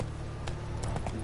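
Hooves of Roach, the horse in The Witcher video game, on PS4, give a quick steady clip-clop of trotting over continuous game background sound.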